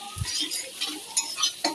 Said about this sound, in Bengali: এই একটু ভাজা ভাজা করছি।